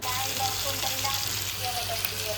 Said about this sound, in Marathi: आता बनवणार आहे मस्तपैकी मच्छी तव्यावरती फ्राय